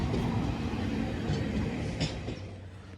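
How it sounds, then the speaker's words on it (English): A heavy GBRF freight train rumbles steadily past in North Staffordshire, a dense continuous roar of wheels and cars that eases slightly at the end. "I have another freight train coming down"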